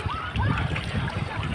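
High-pressure water of the Kalu River surges and splashes close by, a turbulent churning wash with a voice faintly audible beneath it.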